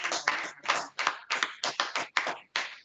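A church congregation claps together in praise of the Lord, a steady run of about ten sharp, loud bursts close by at an even rhythm, with no voices over it.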